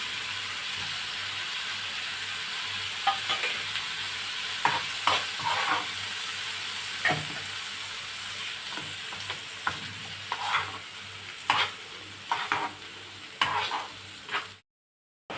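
Chopped tomatoes frying in a pan while cooking an egg and potato dish, a steady sizzling hiss broken by scattered scrapes and clicks of stirring, ending in a sudden cut to silence.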